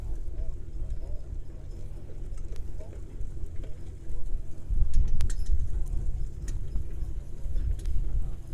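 Mule team pulling an old-fashioned plow across a field at a plow day event, soft hoof clip-clops and rustling in the distance over low outdoor rumble, growing a little louder partway through.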